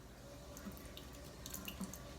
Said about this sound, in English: rinse off your spoon